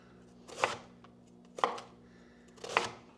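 A knife chops through cabbage on a cutting board in three sharp, separate strikes about a second apart, close and clear over a low steady hum.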